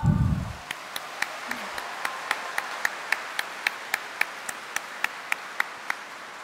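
A church congregation during a homily claps in slow, even unison, sharp regular beats repeating about three times a second after a brief opening voice.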